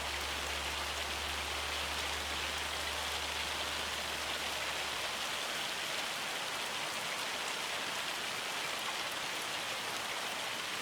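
Rain falls steadily in Farming Simulator as an even hiss of drops on surfaces. A low hum underneath fades out about halfway through, leaving only the quiet, constant patter.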